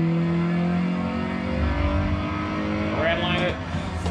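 A car engine with a manual transmission revs to match the shift down into third gear, a loud close rising roar sweeping upward in pitch near the end, with no talk over it.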